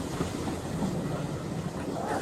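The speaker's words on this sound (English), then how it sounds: "the mighty engine chuffed away" A steam engine hauling freight cars, a continuous loud rolling rumble and hiss with no distinct chuffs standing out.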